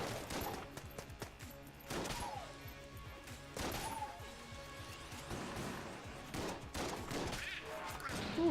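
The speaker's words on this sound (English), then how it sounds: "I'm gonna just start with our shotgun here." Repeated shotgun blasts and gunfire bursts from the video game Enter the Gungeon, firing in irregular clusters amid crashing impacts and game effects, loud and busy throughout.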